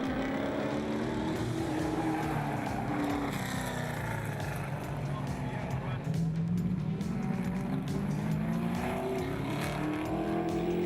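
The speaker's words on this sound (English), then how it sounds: "Great driving there from Scribanti, and a brave move in the big Mustang" Engines of Ford Mustang and Chevrolet Nova race cars roar continuously on a circuit, pitch rising and falling through gear changes, while a commentator talks over the racing throughout.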